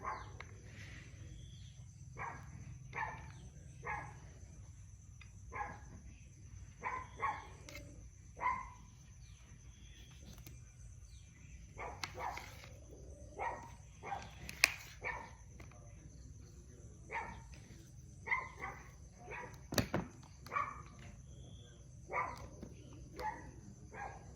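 Dog barking outdoors in a rural Thai yard, repeated short barks at a moderate distance, with insects and crickets buzzing steadily underneath.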